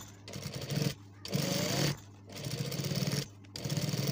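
A sewing machine stitches fabric for a designer collar in four short, whirring runs. Each run is separated by a brief stop, and the machine sounds close and moderately loud.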